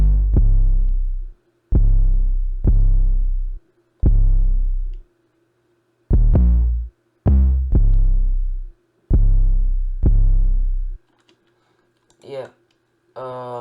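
Deep 808 bass notes from an FL Studio ambient trap beat in a varied pattern, about nine long booming hits in an uneven rhythm with short gaps, ending in quiet with a couple of faint ticks.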